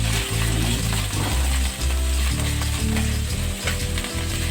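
Garlic sautéing in a pan for pork menudo gives off a steady, close sizzle with light stirring scrapes, while low music plays underneath throughout.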